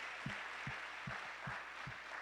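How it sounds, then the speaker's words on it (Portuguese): Church congregation applauding at a service, faint, even clapping with a soft rhythmic low thump recurring about every half second beneath it. "Você pode aplaudir ao Senhor"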